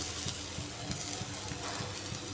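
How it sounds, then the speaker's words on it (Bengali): Chopped tomatoes going into a pan of frying onion, ginger and garlic give a soft, steady sizzle with faint stirring taps, low in level and without talk. "এবারে এর মধ্যে আমি কুচিয়ে রাখা টমেটো দিয়ে দিচ্ছি।"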